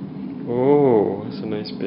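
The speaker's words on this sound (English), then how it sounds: "Oh, that's a nice big yawn." A baby's drawn-out yawn, rising and falling in a soft voiced sweep over about half a second, near and quiet against faint room hum.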